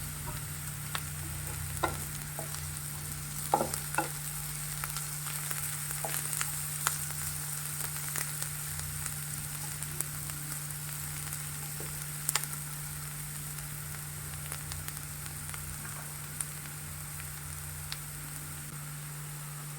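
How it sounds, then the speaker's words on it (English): Onion sautéing in a pan for Goan stuffed squid filling: a low, even sizzle runs throughout under a constant hum, with scattered light clicks of stirring and no talk. "So once you saute the onion, you have to add tomatoes to this."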